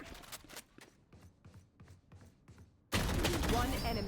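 Gunfire in the video game Valorant: a run of sharp individual shots in an uneven rhythm, followed by a sudden loud burst of dense noise that carries to the end, with speech over the top.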